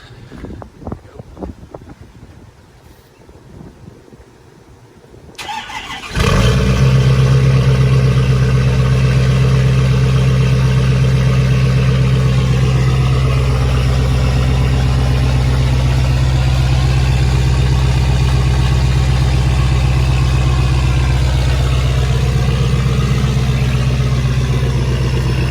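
A straight-piped Ford 6.7 Powerstroke diesel truck is cold-started in 25°F air, cranking briefly before it fires into a loud, raw, steady idle that drones on up close.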